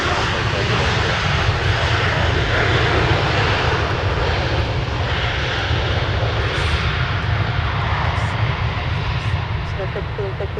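Heavy Delta jet airliner engines at Minneapolis–St. Paul airport, a loud continuous roar held steady throughout, with radio chatter and voices talking over it.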